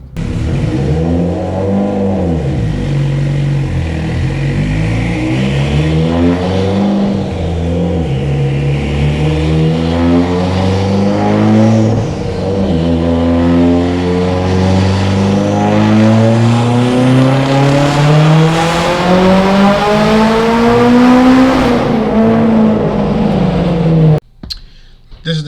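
A tuned Mitsubishi Evo X on E83 ethanol flex fuel, with a GTX3584RS turbo, GSC S2 cams and a sleeved block, accelerating hard. The loud engine note rises through the gears with short drops at the shifts, and a few clicks follow near the end.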